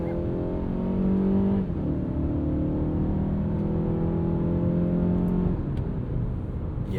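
A 2026 Mazda CX-5 compact crossover on Toyo tyres accelerates during a morning commute, its engine note rising steadily through a gear change near the start and again later, heard from inside the cabin with no talk.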